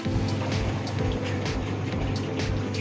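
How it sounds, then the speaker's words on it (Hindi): An LG 8 kg semi-automatic top-loading washing machine is switched on and runs with a steady low motor hum. The hum has a faint rhythmic churning and is heard alone, fairly close. "देखिए हमारी वॉशिंग मशीन ऑन करते हैं हम अपनी।"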